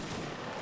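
A line of muskets fires a volley in a Napoleonic Wars game, a single dense, loud, rumbling blast that fills the moment.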